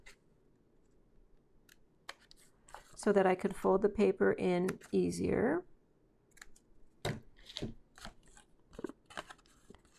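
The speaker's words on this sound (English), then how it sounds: "I'm going to clip out this one little piece" Scissors clip a small piece out of folded scrapbook paper, giving a scattered series of sharp, dry snips and clicks that follow a stretch of close-up speech.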